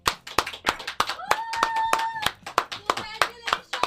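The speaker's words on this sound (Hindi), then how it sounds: "ताली बज रही है, कौन है?" A few people clap in sharp, uneven bursts at a ribbon-cutting for a showroom, close and fairly loud, with voices talking over the claps.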